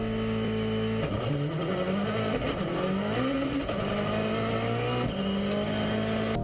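Rally1 class rally car driving hard, its engine note climbing and dropping sharply through a rapid series of very fast gear shifts, steady and close with no talk.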